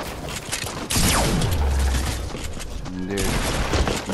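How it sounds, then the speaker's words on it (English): A minigun in the video game Fortnite fires in rapid bursts amid dense gunfire and game effects, loud and chaotic, with a sweeping tone and mechanical clatter mixed in. "Spam the minigun!"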